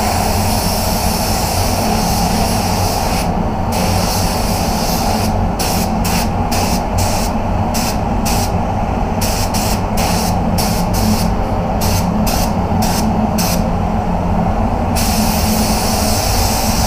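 A spray gun paints a Range Rover Sport, releasing a loud, continuous airy hiss for the full stretch, broken by brief flickering gaps in the highest hiss as the trigger pulses.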